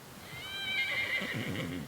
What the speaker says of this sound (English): Mornings start early at Rainbow when the horses are driven in from their overnight pasture